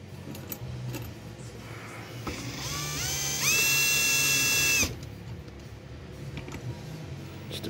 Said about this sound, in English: Let's use the drill.